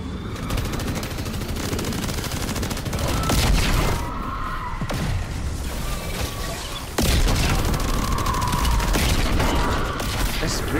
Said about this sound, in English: This recoil on this gun is fucking horrific.